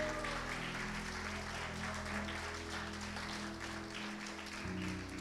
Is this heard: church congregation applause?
yes